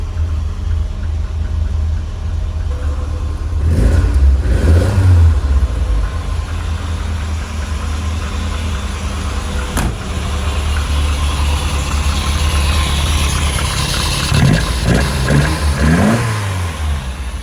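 A classic Lotus Elite, recently pulled from ten years of barn storage, runs its engine at a steady idle with a couple of short revs partway through. The engine is close and sounds alone, with no talk.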